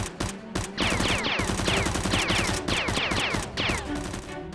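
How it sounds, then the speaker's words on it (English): Rapid bursts of gunfire, fired at someone inside a house during a break-in, crack repeatedly in quick volleys over a dense, loud action soundtrack with whooshing effects. "Dr. Lee and another thief heard the gunshot and were startled."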